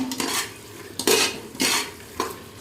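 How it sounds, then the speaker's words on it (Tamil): Spoon stirring and mixing mushroom biryani ingredients in a cooking pot, with a few quick scraping strokes against the metal over a soft background sizzle, close and clear. "நல்லா மிக்ஸ் பண்ணி விட்டுக்குவோம்"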